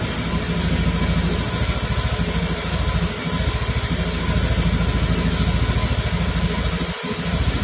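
A car engine idles steadily just after starting, a close, loud rhythmic rumble with a smooth continuous drone and no talking.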